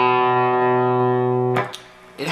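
Electric guitar power chord of root and fifth, distorted and sustained for about one and a half seconds before it is cut off, followed by a brief scratchy noise.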